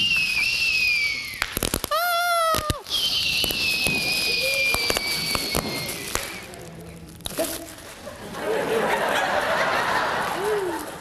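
A voice imitates fireworks with rising whistles, pops and bursts in quick succession, loud and close, with chuckling mixed in.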